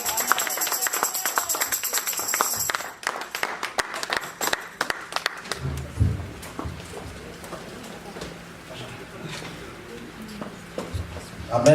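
A church congregation applauding and clapping during an Easter worship service: dense, sharp claps crowd the opening seconds, then the clapping thins into scattered, irregular claps beneath ongoing voices and crowd murmur.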